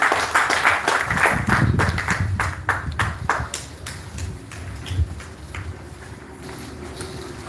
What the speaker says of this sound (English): I want you to just keep your applause going